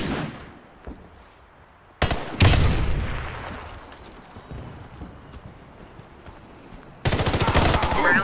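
Warface gameplay: a grenade blast bursts out, followed by sustained rapid gunfire, sharp and loud, with quieter gaps between the bursts and a final dense volley of shots.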